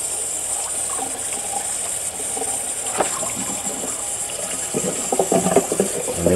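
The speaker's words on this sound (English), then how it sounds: "we're going to rinse off these ribs with cold water" Cold tap water runs steadily over raw pork ribs being rinsed in a kitchen sink, a continuous near gush with brief splashes and clatter toward the end.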